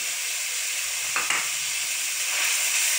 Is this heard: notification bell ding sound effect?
no